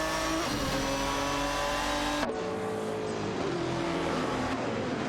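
Race car engines from a racing video game with an Aston Martin DBR9 and Maserati MC12 GT1 drone at high revs in a loud, continuous blend; the pitch shifts abruptly partway through as the engines change gear or the view cuts.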